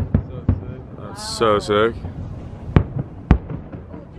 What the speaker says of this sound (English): We got fireworks going off over there.